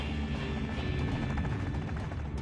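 A Robinson R22/R44 helicopter on a factory test flight produces a dense, continuous roar of rotor and engine noise, loud and close, with no voices over it.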